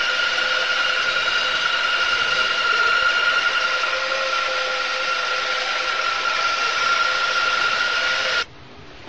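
A homemade bandsaw cuts through 12 cm thick maple with a loud, steady, high whine that holds for about eight seconds and then cuts off abruptly.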